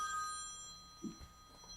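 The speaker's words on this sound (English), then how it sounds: "forgot to switch off my phone" A mobile phone rings indoors, its repeating electronic ringtone tones sounding faint and steady under a quiet room, with a soft bump partway through.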